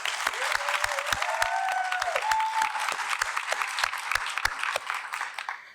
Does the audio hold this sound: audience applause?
yes